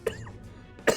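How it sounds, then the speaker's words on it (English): Two sharp, close coughs from a character in the game Persona 5 Royal, spaced under a second apart, with a quiet pause between them. "Why can't I stop coughing today?"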